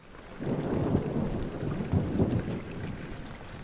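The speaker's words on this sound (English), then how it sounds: "even a thunderstorm outside." Thunderstorm with rain outside in the horror video game Amnesia: The Dark Descent, a deep rolling rumble of thunder building and fading over steady rainfall, heard alone.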